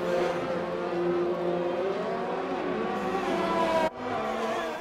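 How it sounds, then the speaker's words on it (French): An F1 2020 race car engine drones loud and close at high revs with whining gear tones, then drops abruptly as a gear shift is missed, before the engine note picks back up. "On a raté une vitesse en plus."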